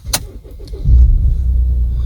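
A Volvo V60 car engine cranks and catches, a key-related rattle and a brief click up front, then the motor settles into a steady low idle, close and fairly loud.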